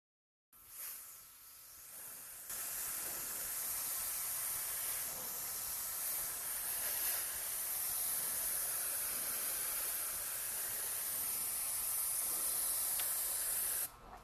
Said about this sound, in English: I'm going to give it one layer of primer coat.